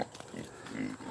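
Kune Kune pigs grunt low and close while eating at feeding time, a short run of soft snorts and oinks with faint rustling, and no talk.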